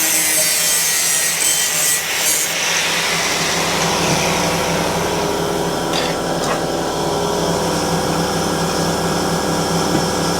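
Sawing through material to make fork covers for a BMW motorcycle project, a steady, loud, continuous rasp of the blade working close by, with no speech.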